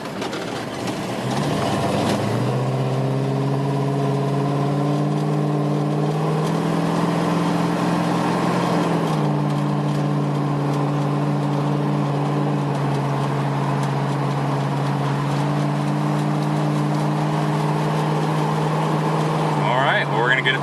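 A 1970 Plymouth Cuda pulls away and accelerates hard, its engine note climbing and dropping in steps as it shifts up through the gears, loud and steady for about twenty seconds.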